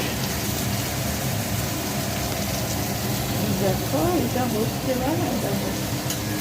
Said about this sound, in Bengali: এবার পেঁয়াজগুলো লঙ্কা ভাজছি